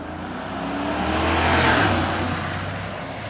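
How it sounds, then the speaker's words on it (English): A 2017 GMC Sierra All Terrain pickup truck driving, heard from the cabin as a steady engine drone and road rumble that swells slightly through the middle, with no talking. "So right now we are driving in the 2017 GMC Sierra All-Terrain"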